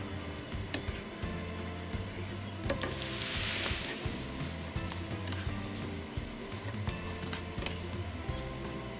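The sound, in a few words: rice frying with shrimp in a pan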